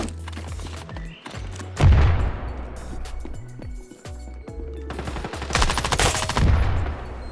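Gunfire in a competitive-mode shooter video game: rapid automatic bursts and single shots with booming impacts, loud and dense, in two clusters with brief lulls between them.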